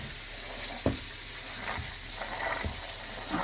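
A thick onion mixture is stirred into Kenyan mokimo, giving soft, wet squelching and scraping in a few uneven strokes at close range, with a steady hiss running under it.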